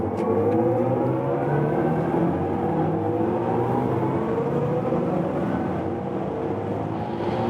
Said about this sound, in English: let's now accelerate from 110 kilometers an hour